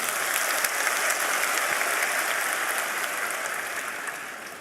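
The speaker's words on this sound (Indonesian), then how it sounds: "Kita berikan tepuk tangan dulu" An auditorium audience applauds the university rector with dense, steady clapping that fills the whole stretch and fades slightly toward the end.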